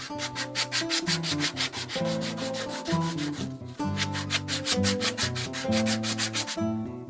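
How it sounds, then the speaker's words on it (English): An ivy wood knife handle on a Finnish puukko is hand sanded with sandpaper, giving steady rhythmic rasping strokes in quick regular succession, close and continuous apart from one brief pause. "Then I hand sand the handle from 60 to 600 grit until it's very, very, very smooth."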